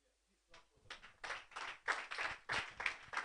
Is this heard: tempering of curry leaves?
no